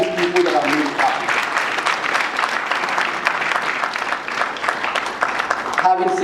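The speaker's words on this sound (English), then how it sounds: "So please kindly give a big round of applause to all these people that have made it happen." Steady applause from the audience at an international surgical scientific conference fills the room with dense, continuous clapping throughout, briefly giving way to a voice at the very end.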